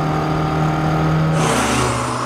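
A Fiat Topolino Zagato's small engine idling with a steady hum, then revving up sharply about two-thirds through into a louder, raspier note, heard close with no voices.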